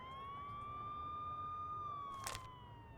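A steady siren tone from the Nancy Drew: The Phantom of Venice video game holds for about three seconds, loud and alone, with a short burst of noise near the end.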